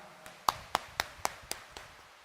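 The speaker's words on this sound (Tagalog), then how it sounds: "itaas ang kamay at pumalakpak ng mas malakas" A church congregation clapping hands in a steady rhythm, six sharp claps about a quarter second apart, fairly faint and fading toward the end.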